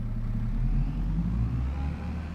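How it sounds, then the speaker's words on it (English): A vehicle engine in Farming Simulator 22 purrs with a low, steady hum, continuous and fairly quiet, with no talking. "I can barely hear the engine. It's just purring away."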